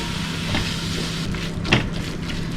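Chopped tomatoes and spice powders sauté in a pan for chicken biryani, giving a steady close sizzle with a soft stir scrape partway through.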